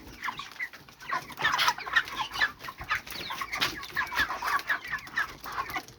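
Chickens clucking steadily while being fed, a dense overlapping chorus of close, busy clucks at moderate loudness with no talking.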